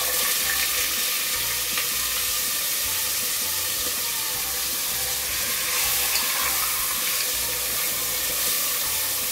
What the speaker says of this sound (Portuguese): Então nós vamos selar primeiro essas bistecas, né?